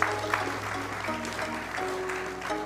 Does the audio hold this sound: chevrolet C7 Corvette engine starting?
no